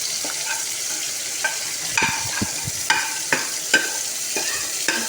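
Potatoes and eggplant fry with spices in a pan for aloo baingan, a steady close sizzle broken by several sharp scraping stirs and clinks spread across the few seconds, with no voices.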